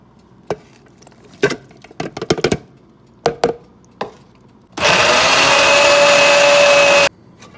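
A blender whirs loudly and steadily for about two seconds as it purées ingredients for oven-baked jollof rice, following several sharp knocks and clatters in a kitchen.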